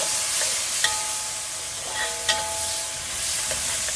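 White vinegar, tomato ketchup, chili and onions are stirred in a hot pan, a close steady sizzle broken by a few light clinks and scrapes of the spoon, with no voices.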